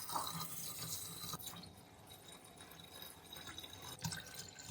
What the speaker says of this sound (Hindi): अब हम इसको अच्छे से धोकर साफ पानी डाल देंगे।